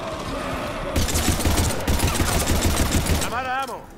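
Rapid automatic gunfire in Mass Effect 3, a dense loud burst of rattling shots for a few seconds, ending in a rising electronic whine.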